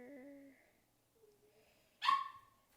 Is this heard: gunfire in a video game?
no